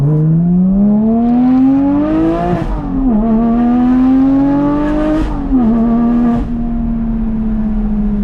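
A Porsche 718 Cayman GT4 with an aftermarket exhaust revs up to redline on a dyno. The engine climbs repeatedly in loud, close pulls, each rising in pitch, then dips briefly and holds high again.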